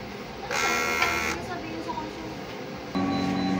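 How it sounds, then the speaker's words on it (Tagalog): An inkjet printer runs a print head cleaning cycle, producing a short buzzing mechanical whir, a pause with faint clicks, then a steadier motor hum starting up near the end, fairly quiet overall. "Printer head clean."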